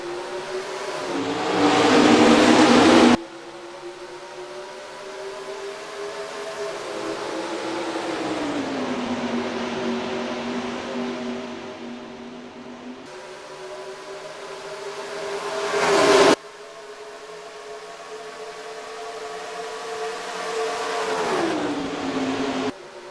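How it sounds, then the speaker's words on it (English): Stock cars racing at Texas Motor Speedway in the NR2003 racing game, a loud continuous engine drone that rises and falls in pitch as cars pass and shift, with sharp cuts between louder and quieter camera views. "We're green flag racing at the Texas Motor Speedway."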